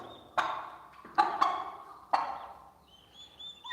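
Young turkey and chicken chicks, a newly hatched brood a few days old, give a few short, separate peeping calls close by with quiet gaps between them, alone with no talk.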